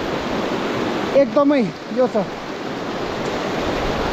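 The Kali Gandaki river rushes powerfully in a deep gorge, a loud, constant roar of fast water close by, with someone speaking briefly over it midway.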